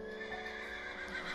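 A horse in the Minecraft video game whinnies in a steady, drawn-out neigh that carries through the whole moment, close and fairly loud with no talking over it.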